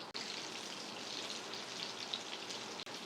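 Ripe plantain (nendran banana) slices fry in hot oil over medium-high flame, making a constant dense hiss and crackle with light popping, close and unbroken, with no talk.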